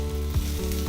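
Cubed aubergine and potato fry with onions in a pan, a steady low sizzle running throughout, broken by two soft scraping stirs.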